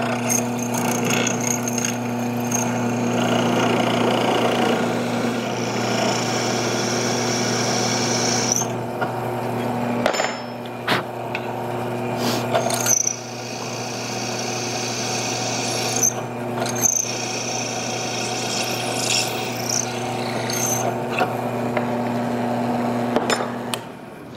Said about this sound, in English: gonna drill at the highest point first. See if we can punch straight down through.